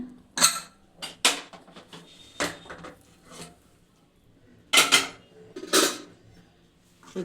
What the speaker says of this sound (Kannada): ಕುಕ್ಕರ್ ತಣ್ಣಗಾಗಿದೆ ವಿಸಿಲ್ ತೆಗಿತಾ ಇದ್ದೀನಿ